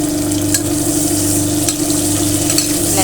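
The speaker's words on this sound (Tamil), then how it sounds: "வெங்காயமும் மிளகாயும் நல்லா செவந்து வர ஸ்டேஜுக்கு வந்துருச்சு" Onions and green chillies fry steadily in hot oil in a loud, continuous close sizzle, with a few brief stirring clatters over the top.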